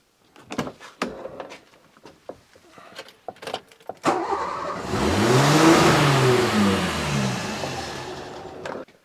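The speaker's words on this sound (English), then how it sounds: "I had to switch the car off very quickly because it was revving" A few clicks and knocks, then a Renault 25 V6 Turbo engine turns over and catches, revving up loudly and holding a high, fluctuating roar nearby.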